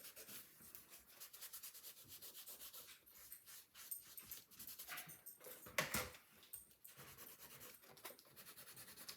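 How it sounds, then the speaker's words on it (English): Folded scrapbook paper is burnished with repeated close, faint rubbing and scraping strokes, a soft dry swishing rhythm with one sharper scrape partway through. "All right, so then we can burnish those really well."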